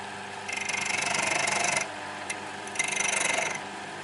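Wood spinning on a lathe under a spindle gouge as waste is turned away: two rough, hissing cutting bursts of about a second each, separated by a short pause with light tool taps, fairly close.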